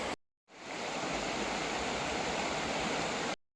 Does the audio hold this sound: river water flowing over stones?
yes